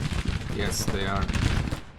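Civil War brigades exchanging musket volleys in Grand Tactician, a loud crackling barrage of overlapping shots with sharp peaks, mixed with a voice speaking over the din.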